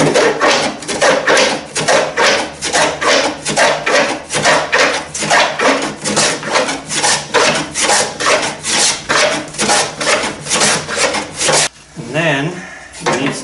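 A bandsawn wooden boat gunwale piece being smoothed by hand: rhythmic back-and-forth rasping strokes, loud and close, repeating steadily before a brief pause near the end.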